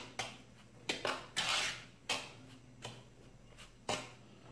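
A utensil clinks and knocks against a bowl while wheat flour and sugar are mixed, with several quiet, irregular taps spread out and little else around them.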